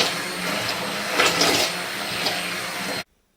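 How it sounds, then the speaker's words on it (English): A blender purees homemade soup thinned with water, giving a loud, steady whirring roar for about three seconds before cutting off abruptly. "Turn on your blender."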